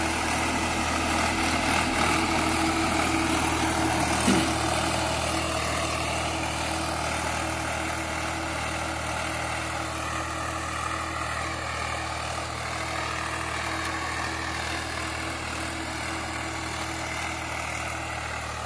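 A thirty-year-old Swaraj 735 tractor engine runs steadily in a field, a continuous loud droning hum with even low rumble that holds without pause from start to finish.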